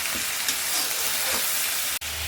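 Masala for a snakehead fish curry fries in a pan, a loud, steady sizzle filling the sound up close, with faint stirring scrapes and a brief cut near the end.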